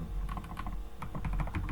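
A computer keyboard typed on at close range while a file name is entered, with a quick irregular run of clicky keystrokes in a quiet room.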